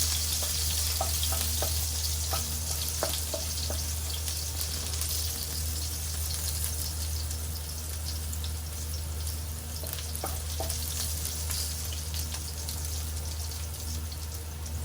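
Chili peppers dry-roast and stir-fry in a pan, giving a constant dense sizzle with scattered light clicks and scrapes from stirring, close and steady throughout.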